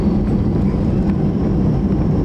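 An Air India airliner rolls along the runway at Thiruvananthapuram airport for takeoff, a loud steady roar of engine and rumble heard from inside the cabin.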